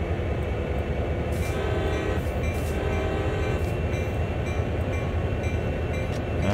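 A CSX heavy-haul diesel locomotive in Train Sim World sounds its horn in sustained tonal blasts over a loud, continuous engine rumble, with no talking.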